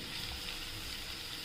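Diced potatoes sautéing in a pan for a fasting potato bhaji, giving a faint, steady sizzle with no voices.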